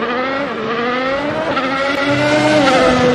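A Formula One race car engine screams at high revs with a continuous whining, slightly shifting tone, loud and close throughout.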